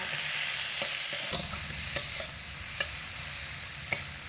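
Flat beans fry with a little salt in a pan over low heat, giving a constant soft sizzle with occasional knocks and scrapes from stirring, close and without talk.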